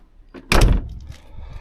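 A Land Rover Discovery 300 Tdi car door shuts with one solid, close thud, followed by a faint rattle and quiet settling.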